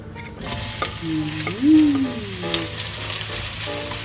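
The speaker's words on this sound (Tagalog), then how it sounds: "we're going to fry the onions" Onions frying in a small amount of oil for Bicol Express, a steady sizzle under other sounds, with a loud tonal squeal rising and falling in the middle and faint clinks around it.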